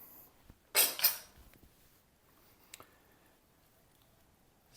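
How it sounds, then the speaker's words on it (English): Onion soup stock ladled into a hot pan: one short loud sizzling splash, then quiet scraping and faint metallic clicks of the utensil against the pan. "grab your ladle, and then we're going to put a bit of the stock into the pan"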